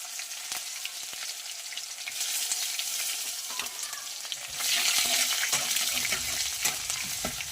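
Curry leaves and onion frying in hot oil with mustard seeds and chana dal in a pan, a steady loud sizzle that swells as the onion goes in, with occasional stirring scrapes and no voices.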